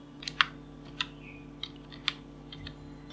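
Typing a bank branch name on a computer keyboard while filling in an internet banking form, a few quiet scattered key clicks close by over a faint electrical hum.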